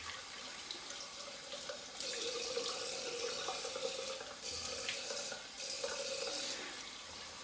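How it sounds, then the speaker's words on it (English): Tap water running into a sink for a cold rinse of the face after a straight razor shave, a steady close hiss with brief dips where the flow is interrupted by hands. "So I had my warm water rinse, now I'm going cold water rinse"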